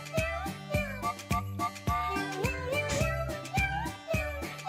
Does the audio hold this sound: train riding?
no